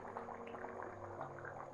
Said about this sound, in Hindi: पानी में उबाल आने के बाद इसमें डालेंगे चावल